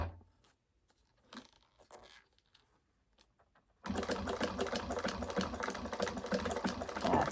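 A sewing machine stitching strap ends that have sticky tape on them runs in a steady, fast, close mechanical rattle, after a few seconds of quiet handling clicks.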